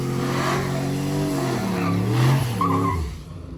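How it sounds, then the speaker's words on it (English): A turbocharged truck on a drag strip making a pass, engine loudly revving up through rising pitch sweeps with tire squeal, close and alone without talk. "he's making another pass in the truck."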